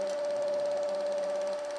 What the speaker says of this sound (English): if one fly is stitched, the next is loaded and will be stitched directly afterwards.